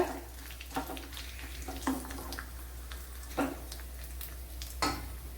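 Dried red chillies dropped into hot oil for pumpkin pulissery, a soft steady sizzle broken by several sharp crackling bursts at irregular intervals, close and fairly quiet, with no talking.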